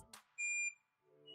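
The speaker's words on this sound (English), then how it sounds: "We put on the buzzer range." A single short continuity beep sounds from a multimeter on its buzzer range while testing a K3 Powersoft amplifier, steady and high-pitched, between faint clicks and a soft hum.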